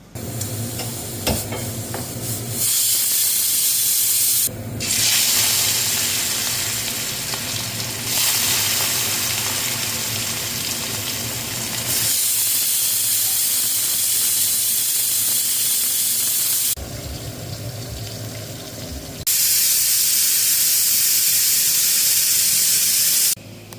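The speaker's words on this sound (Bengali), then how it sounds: "এখানে আমার মাছ ভাজা হচ্ছে" Fish rubbed with salt and turmeric fries in a pan, a loud, dense sizzle and hiss that drops away briefly several times before surging back.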